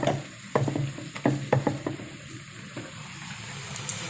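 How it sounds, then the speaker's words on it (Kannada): Papad (happala) dipped one at a time into hot oil gives a soft hiss and bubbling, broken by several sharp clicks and clatters of handling, fairly close, with no talk. "ಎಣ್ಣೆ ಬಿಸಿಗಿಟ್ಟು ಒಂದೊಂದೇ ಅದ್ದಿ ಈ ಥರ"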